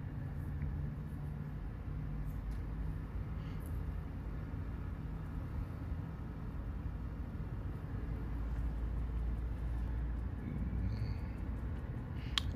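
A car drives along a straight road toward Rayfield in Jos, Nigeria, giving a steady low engine and road rumble that holds even and unbroken throughout, with no talk.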